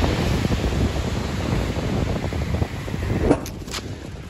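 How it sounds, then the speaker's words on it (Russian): Sea waves wash steadily onto a calm beach on the Black Sea coast at Adler, Sochi, a continuous loud rush mixed with wind buffeting the microphone, and one surge swells near the end. "какая там волна пошла."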